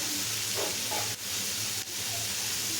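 Onions and tomatoes sautéing in a pan for a chutney give off a steady sizzle and hiss, with a couple of brief stirring scrapes, and no one speaks.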